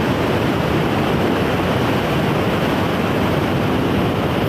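Water roaring through a barrage power station on the Bhavani river in Tamil Nadu, a loud, unbroken rushing wash that never lets up.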